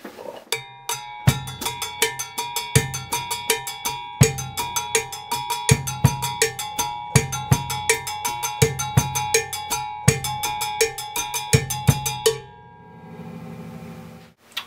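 Cuban timba salsa drum beat played with two-hand strokes, a steady run of bright, ringing metallic hits over deeper drum thumps, looping for several bars before stopping.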